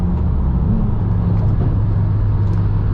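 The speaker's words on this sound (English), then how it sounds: "the exhaust, the NVIDIA exhaust I have on this car isn't too loud" Modified, lowered Subaru WRX with an aftermarket exhaust and pro tune, heard from inside while driving: a steady, fairly loud low engine and exhaust drone holding an even pitch throughout, with no talk over it.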